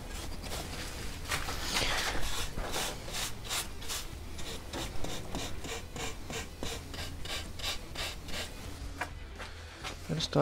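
Rasping rubbing strokes of cloth wiping grain filler off a wooden guitar body in a workshop, a steady run of close, repeated scrubbing passes throughout with no pauses.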